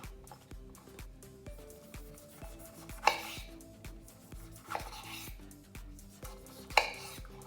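A knife chops a tomato into small cubes on a cutting board for a smoked salmon omelette, with quick, steady, evenly spaced taps and a few louder knocks, close and fairly quiet.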